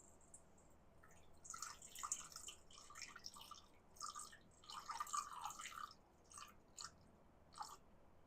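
Water poured into a bowl on a kitchen scale for cornmeal pizza dough, a faint trickling and splashing in irregular bursts over a few seconds, no talking.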